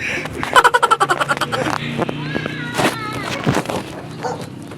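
A dog barks in a quick run of sharp yips, then whimpers and yelps a few more times while people talk nearby.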